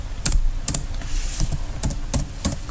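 Typing JavaScript code on a computer keyboard, a quick run of crisp key clicks in uneven clusters, close and clear over a low background hum.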